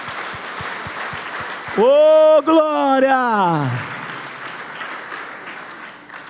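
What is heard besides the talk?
congregation applauding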